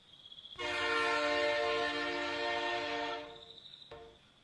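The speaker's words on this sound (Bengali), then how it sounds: "কিছুক্ষণের মধ্যে হুইসেল বাজিয়ে একটা ট্রেন স্টেশনে ঢুকতে শুরু করলো" A train at a station sounds a long, loud, steady whistle for about three seconds, then gives a short second blast, with quiet rail background between.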